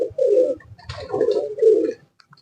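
Golden pigeons at a breeder's loft coo in low, throaty bursts: three close, rolling calls over about two seconds, then quiet.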